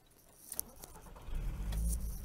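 A quiet rustle and a key-like jingle, then a Volkswagen Golf 4 V5 engine with an exhaust valve turns over and settles into a low, steady rumble nearby.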